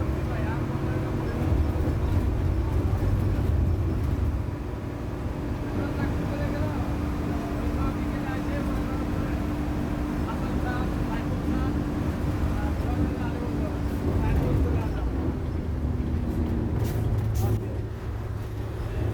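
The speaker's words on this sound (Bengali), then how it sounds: "জ্যাম শেষে আমাদের বাসটি আবার ঢাকার উদ্দেশ্যে চলতে শুরু করে" A student-fare bus travels along the road toward Dhaka in daylight, its engine a steady low rumble with a faint whine, heard from inside the cabin while a person talks over it.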